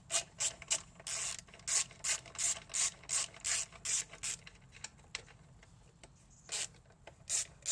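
A ratchet undoes a 10mm bolt on a 2005 Aprilia RS50 scooter, giving close, loud rhythmic bursts of clicking strokes that slow into sparser, fainter clicks before picking up again.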